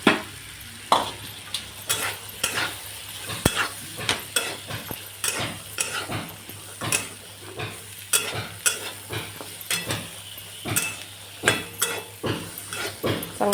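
Chickpeas frying in oil with tomato, onion and masala in a pan, a spoon stirring with repeated sharp scrapes and clinks against the metal over a low continuous sizzle, close and alone with no voices.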